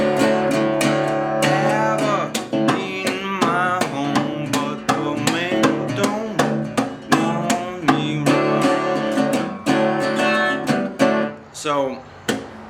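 Acoustic blues guitar, played with a percussive right-hand roll: steady rhythmic strummed strikes and ringing chords, loud and close, played alone for several bars before easing off at the end.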